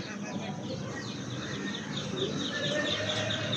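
Chickens clucking and chirping steadily nearby amid a busy market murmur in Sibu, a continuous flock chatter with repeated short calls.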